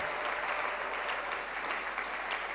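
A church congregation applauds steadily, a dense, even wash of many hands clapping that holds at constant loudness throughout.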